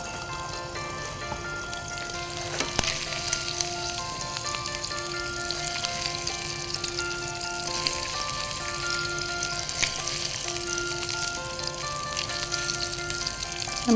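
Prawns fry in hot oil with a steady, continuous sizzle that holds at an even moderate level for the whole stretch, with occasional brief crackles and pops.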